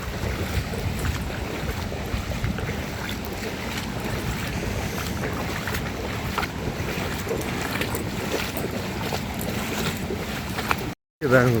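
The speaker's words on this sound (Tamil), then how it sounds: "காற்று எப்படி அடிக்குதுன்ட்டு." Strong coastal wind gusts across a beach beside flooded houses, a continuous rough roar buffeting the microphone, with surf-like rumble underneath and a brief dropout near the end.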